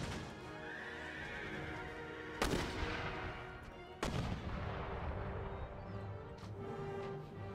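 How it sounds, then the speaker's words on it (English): Artillery fires in an Empire: Total War battle. Two loud, sharp booms land about a second and a half apart over constant battlefield ambience, with horses whinnying in the mix. "Out of two batteries of six guns, only three are actually capable of shooting now."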